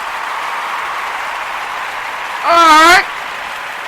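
Audience applause at a gathering, a steady wash of many hands clapping that continues throughout, briefly covered by a single spoken phrase from a nearby voice.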